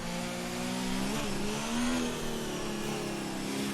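Formula One car engine in the racing game F1 2019 during Brazil practice and qualifying, a continuous high-pitched droning whine with a brief gear-shift dip around the middle before the pitch climbs again, loud and close with no talking.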